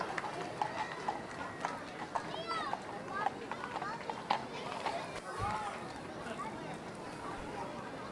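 Carriage horses' hooves clip-clopping on a street at a steady rhythm during a horse-drawn carriage parade, moderately close, mixed with crowd chatter and voices around.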